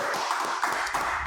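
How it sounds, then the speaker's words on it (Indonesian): A podcast studio audience claps briefly after the host's welcome to a hospitality-themed show, giving a few soft, evenly spaced claps close by. "Tepuk tangan dulu."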